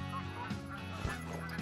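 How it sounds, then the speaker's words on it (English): Geese honking in a goose-hunting video game: several loud, nasal honks in quick succession near the start, middle and end, over a busy ambient layer with other faint calls and no voices. "Geese everywhere."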